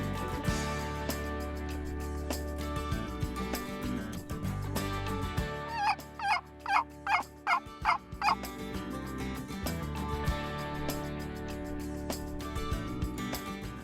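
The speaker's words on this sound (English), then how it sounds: "I'm surrounded by turkeys." Wild turkeys gobble nearby in Northern Idaho in a burst of several rapid, warbling calls, with other fowl chatter and outdoor noise before and after.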